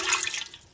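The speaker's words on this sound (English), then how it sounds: "First thing you're putting in is 3/4 cup of water." About three-quarters of a cup of water splashes and pours into a bread maker pan while cinnamon raisin bread is being made, a short, close, bright rush that quickly tapers off.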